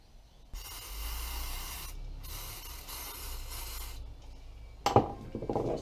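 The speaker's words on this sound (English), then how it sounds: "It's just brake cleaner." Brake cleaner sprayed onto motorcycle spark plugs during a Suzuki GS550 restoration, two long steady hissing bursts close by with a short gap between, followed by brief clatter and handling noise.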